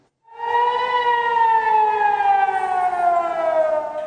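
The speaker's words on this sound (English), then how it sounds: "Sirens sounding across Israel as Iran launches an attack" A civil defense air-raid siren wails across Israel during an Iranian missile attack, one long, loud sustained tone that slowly falls in pitch, with no voices over it.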